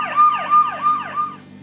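Toy fire engine siren wailing loud and close in a rapid, repeating up-and-down sweep, four cycles in quick succession with nothing else heard.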